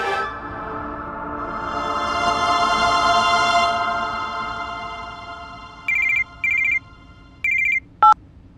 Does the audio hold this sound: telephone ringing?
yes